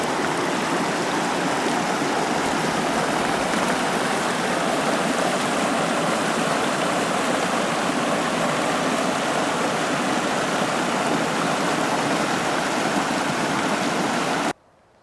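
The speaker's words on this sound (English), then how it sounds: "Here's the creek coming out of Center Basin" A mountain creek flows out of Center Basin, known as Bubs Creek, on the John Muir Trail in the Sierra Nevada, a steady, full rushing of water close by with no pauses, cutting off sharply at the end.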